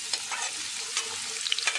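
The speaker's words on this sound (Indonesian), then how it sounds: "Kita akan goreng bawangnya dulu ya guys." Shallots and smashed and grated garlic frying in reused oil, previously used for jengkol, over medium heat for sambal jengkol, a close, steady sizzle with soft stirring scrapes, no voices.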